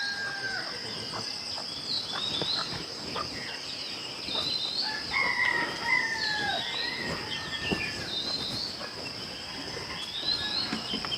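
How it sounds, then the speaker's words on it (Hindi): Roosters crow repeatedly at dawn in a remote village in Abujhmarh, several calls rising over a steady, high chorus of crickets and other insects, with no talking. "जो मुर्गे बांग देते हैं, अब आपको शहर में नहीं सुनाई देते हैं,"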